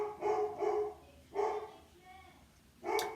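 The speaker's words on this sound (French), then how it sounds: "Désolée, c'est le chien." A dog at home barks several times, three sharp close barks in a short burst, then a pause with a faint whimper, then one more loud bark.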